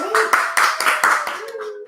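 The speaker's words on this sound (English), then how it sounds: "Give yourselves a round of applause, you beautiful people." A round of applause from a studio or live audience, several short bursts of clapping with a voice speaking over them.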